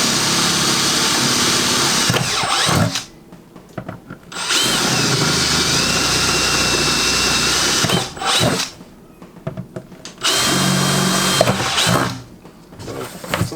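A power drill bores drain holes in a planter, running in three loud sustained bursts separated by short quiet pauses.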